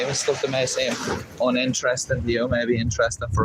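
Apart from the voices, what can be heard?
No distinct noise like a dog, phone or traffic.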